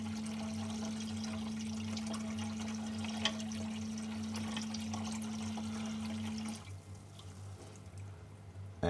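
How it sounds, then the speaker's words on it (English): An aquarium auto top-off pump pours water into a reef tank sump, a steady trickling flow with a constant pump hum that cuts off near the end, leaving quieter dripping. "Pours the ATO water in."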